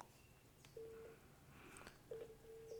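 A call placed from a second phone to a Samsung Galaxy Watch 6 sounds as a few faint, short electronic dialing tones separated by pauses, soft and thin over quiet room background, with no one speaking.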